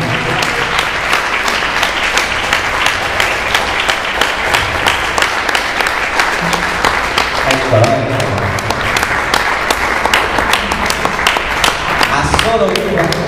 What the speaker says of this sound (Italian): facciamo un grande applauso a Manuel Marchigiani